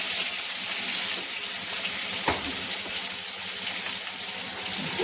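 Potatoes frying in hot oil with crackling cumin seeds for a fenugreek (methi) curry, giving a steady, even sizzle throughout with a brief stir or clink midway and no talking.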